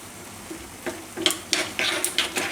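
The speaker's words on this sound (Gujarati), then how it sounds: "અને આમાં આપણે નાખી દઈશું આ કાજુ બદામ પિસ્તા. ઘીમાં આ બધું શેકી લેવું થોડીક વાર." Cashews, almonds and pistachios tossed into hot ghee in a pan, giving a faint sizzle with several light clicks and clatters as the nuts are dropped and stirred.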